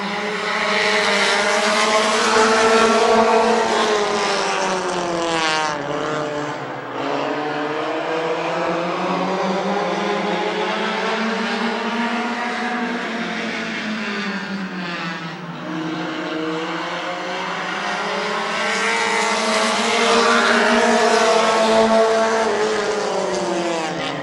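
Race cars roar together around the oval at Midvale Speedway, a loud continuous engine drone rising and falling in pitch as the pack circles, with no speech over it.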